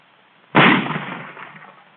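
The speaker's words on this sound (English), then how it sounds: "Here's a rifle grenade." A rifle grenade fired during a 1943 military training demonstration: a single sharp, loud blast that bursts suddenly and then rolls away over about a second, heard alone on a band-limited old recording.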